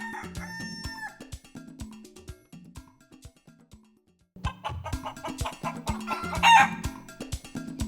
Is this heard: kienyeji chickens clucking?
yes